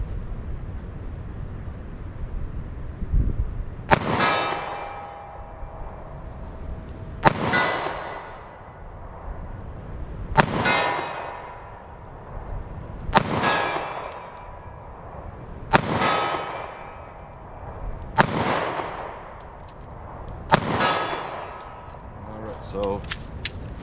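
Seven evenly spaced loud gunshots from a Sig Sauer Elite Defense V-Crown pistol firing .45 ACP with a short barrel, each sharp crack ringing out with a metallic tail at a shooting range.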